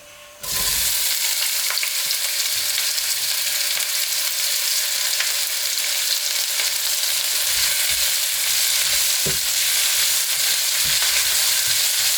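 Onions hit a hot pan for a lamb mince and chickpea curry, bursting into a loud sustained sizzle that holds steady, with a few soft stirring knocks along the way.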